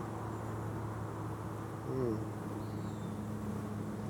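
Honeybees buzzing around an opened beehive box during a light hive inspection, a steady low hum running throughout with a brief louder buzz as a bee passes close.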